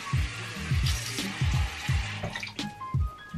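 Water runs from a tap while a face mask is rinsed off, with rhythmic splashes and sloshes recurring about twice a second and a steady flow underneath, close by.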